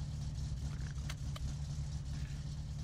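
A car exhaust in the video game My Summer Car idles with a steady low engine rumble, with faint higher clicks and a soft hiss layered over the drone.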